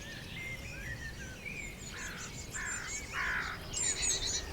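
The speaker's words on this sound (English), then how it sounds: "But the biggest danger for these creepy crawlies is posed by birds." Small birds chirp and call in a summer outdoor setting, several short bright calls and whistles rising in the later seconds over a steady insect-like hiss, moderately near and with no talking.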